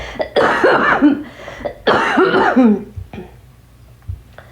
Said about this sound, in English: Hopefully we can get rid of this freaking cough